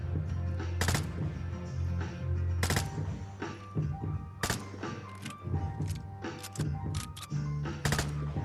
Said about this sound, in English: As you can see, meta assault rifle, really good time to kill.